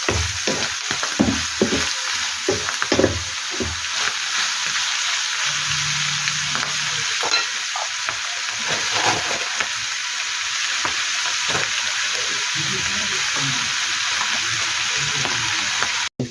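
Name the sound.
oil splattering while sautéing for Filipino-style spaghetti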